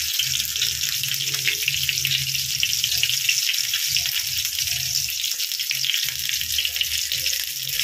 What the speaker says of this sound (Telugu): చక్కగా సిమ్లో పెట్టి ఇలా నెమ్మదిగా ఫ్రై చేసుకోవాలి